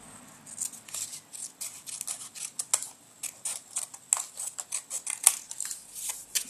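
Scissors trimming excess paper from a homemade bookmark, a steady series of close, crisp snips repeating in quick rhythm, quiet and alone.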